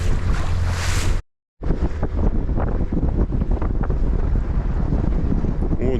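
Strong wind buffets the microphone by a lake near the village of Karakum in Kazakhstan, a loud continuous roar that breaks off briefly and then resumes with gusts and faint voices.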